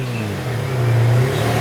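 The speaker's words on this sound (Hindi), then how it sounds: "गाड़ी की आवाज।" A car engine hums steadily and nearby, then rises as it revs up in a short burst with no voices over it.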